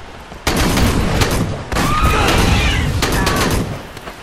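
Dense sustained gunfire from Aliens: Colonial Marines multiplayer, loud bursts of automatic weapons filling the whole stretch with a brief lull near the start, mixed with shouted voices and game effects.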